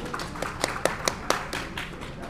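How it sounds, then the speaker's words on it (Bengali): An audience at an event claps, with a scattering of individual claps and taps rising and fading over a couple of seconds and heard fairly close. "তো আমরা জোরে একটা করতালি দিই রিমার্ক হারলেন এবং টাইলক্সের জন্য।"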